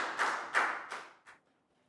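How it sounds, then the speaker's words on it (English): A brief burst of classroom applause from a Year 3 class, a few soft, quick claps that fade out within about a second and a half. "Big round of applause for down."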